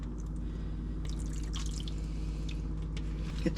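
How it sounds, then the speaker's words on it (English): Water trickles and drips onto a seed starting tray set under a grow light, with scattered small splashes and droplets over a steady low hum, fairly quiet and without speech. "Let's get some water on there."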